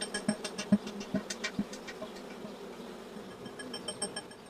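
Bees buzzing back at the hive, a steady droning hum with a few louder close buzzes of individual insects passing near over a dense background swarm.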